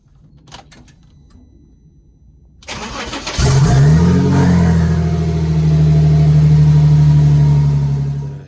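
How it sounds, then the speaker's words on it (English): A BMW Mini's standard engine cranks briefly, catches, and settles into a steady, loud idle after a few seconds of quiet background noise. "Test and start my BMW Mini standard engine."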